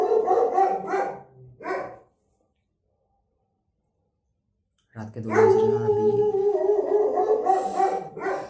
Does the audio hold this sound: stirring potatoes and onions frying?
no